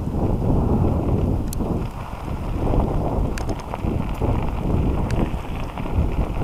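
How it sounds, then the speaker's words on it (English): Wind gusting across a small boat on open water, a constant rushing roar with buffeting on the microphone and faint scattered ticks, loud and close throughout. "The wind's gonna blow us home."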